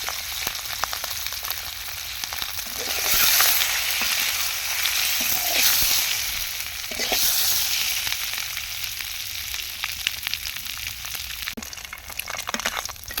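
An egg with turmeric fries in hot oil, giving a steady broadband sizzle with occasional crackles and spatters that swell and ease over several seconds, with no voices.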